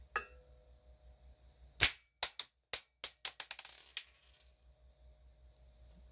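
A rubber-band slingshot fires quarter-inch shot outdoors, producing a string of sharp, distinct snaps and cracks, about a dozen quick impacts in an uneven rhythm, then quiet low background hum.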